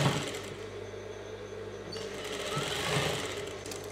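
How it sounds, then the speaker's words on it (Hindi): An electric sewing machine runs steadily, stitching the seam of an Afghani salwar pajama, with a continuous close mechanical whir and slight rises in speed, no talk. "इस पे सिलाई लगाएंगे बराबर से"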